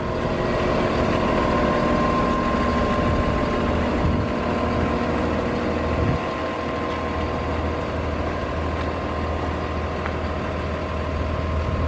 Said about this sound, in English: the engine's pretty loud